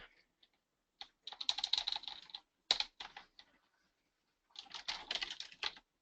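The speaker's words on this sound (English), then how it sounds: "I'm just going to type in solo ads for business opportunities." Search typed on a computer keyboard, with bursts of rapid close key clicks separated by short pauses, quiet and alone with no talk.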